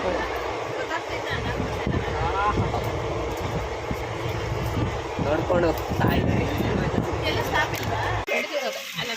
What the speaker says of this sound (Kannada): ಗಾಳಿ ಬೀಸ್ತಾ ಇದೆ ಹಿಂಗೆ